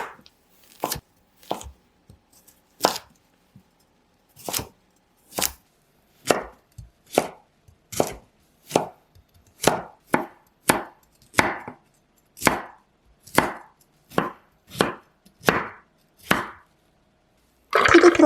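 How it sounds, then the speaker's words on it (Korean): A knife chops washed broccoli into small pieces on a cutting board: sharp, crisp thuds land one at a time at an uneven, gradually quickening pace, close and clear in an otherwise quiet kitchen. "씻은 브로콜리는 작은 크기로 썰어주시고요."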